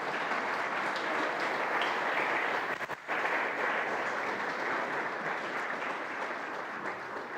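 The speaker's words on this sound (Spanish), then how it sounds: "Denle un aplauso al Señor." A church congregation applauding during a sermon, a sustained even wash of many hands clapping at moderate loudness with no voices standing out.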